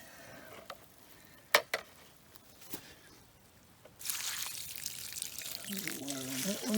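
Water poured onto plants outdoors, a few light knocks first, then a steady hissing splash and trickle of water that continues to the end.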